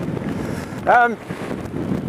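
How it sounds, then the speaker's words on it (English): Strong wind buffets the microphone in a continuous low roar on a hilltop walk in the Ochil Hills, with a brief voiced sound partway through. "It's been windier than I thought."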